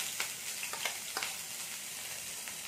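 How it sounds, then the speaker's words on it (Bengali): Chopped onion and green chilies fry in a pan, giving a steady, soft sizzle with a few brief crackles and pops near the start. No one speaks. "এগুলো আমি একটু ভেজে নেবো।"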